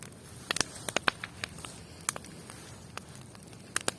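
Wood campfire burning outdoors, a sparse scatter of sharp crackles and pops of varying loudness over a soft low hiss of flames, close by with no voices.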